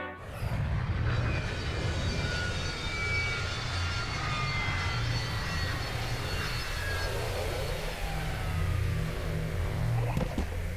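An aircraft landing in Psychonauts 2, a loud continuous engine roar with a low rumbling drone and shifting whines, steady and close throughout.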